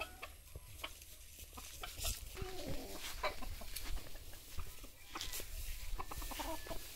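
Backyard chickens on a family home farm cluck repeatedly from close by among cacao plants, with sharp irregular calls and a steady outdoor hum underneath.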